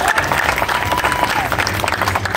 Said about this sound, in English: Round of applause for my volunteers.